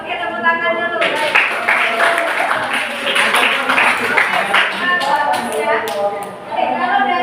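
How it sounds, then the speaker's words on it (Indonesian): Classroom applause from a group of seventh-grade social studies students, steady dense clapping lasting several seconds with voices mixed in. "Oke, tepuk tangan dulu"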